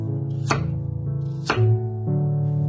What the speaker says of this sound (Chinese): 外皮去掉以后再把它切成小段，把它切成两公分的厚片就可以了